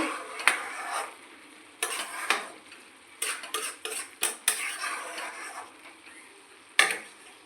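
A pot lid lifts off prawn pulao, then a spoon stirs the rice with a series of close, irregular metallic scrapes and clinks over a faint simmer, with a final clatter near the end.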